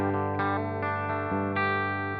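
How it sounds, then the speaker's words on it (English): Clean electric guitar played through the Rev G20 amp model on a Line 6 HX Stomp with all effects off, a few rhythmic strummed chords ringing with full sustained harmonics, up close, no voices. "Here is the sound with no processing. This is just the Rev G20 amp you're hearing."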